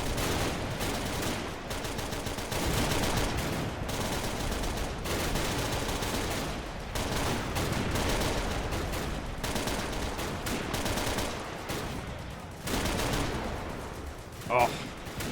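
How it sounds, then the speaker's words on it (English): A war video game battle defending a Soviet factory, with dense continuous gunfire and the hammering bursts of a wheeled Maxim machine gun against infantry and armor, loud and relentless throughout, with faint voices mixed in. "We have a wheeled Maxim machine gun here in the ruins. It's hammering away at the German infantry as well."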